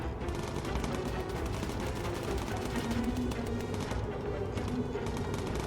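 Machine guns in a World War II bomber video game fire continuously against Italian biplanes, a dense, steady rattle of rapid shots that holds at an even level throughout with no pauses.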